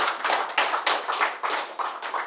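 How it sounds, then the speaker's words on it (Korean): An audience applauds at a lecture on overcoming the crisis of modern civilization, giving a short, close burst of dense clapping in uneven pulses with no talk over it. "여러분들 위해서 박수 한번 쳐주시길 부탁드리겠습니다."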